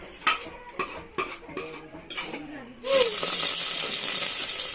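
Boiled dal being spooned onto another plate: several sharp metal spoon clinks and scrapes against dishware, followed by a sudden rush of running tap water, with a voice talking faintly.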